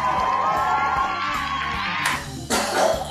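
A live television studio audience cheers, whoops and shouts together at the opening of a cooking show, a loud, bright burst of crowd noise that dips briefly and then swells again over a rhythmic music bed.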